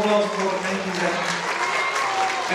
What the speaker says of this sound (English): So give them all a big round of applause, ladies and gentlemen